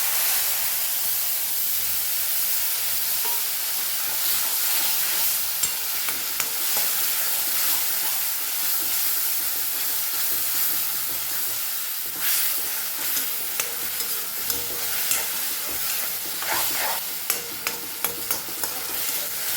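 Grated tomato sizzles in hot oil already holding cumin and asafoetida, a steady loud frying hiss with bursts of spitting and steam crackle, and stirring scrapes near the end, no voices.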